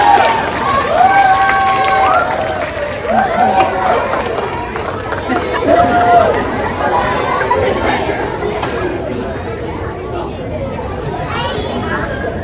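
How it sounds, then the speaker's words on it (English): School audience applauding students with perfect attendance, crowd clapping and cheering mixed with chatter and some voices, fairly loud and sustained. "Let's hear a round of applause for all the students that have perfect attendance"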